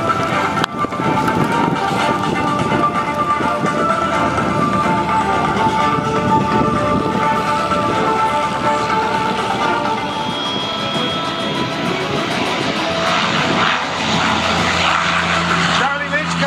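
A P-51 Mustang warbird rolls back onto the grass at an air show. Its piston engine drones loudly and steadily for the full stretch, while a commentator talks over it.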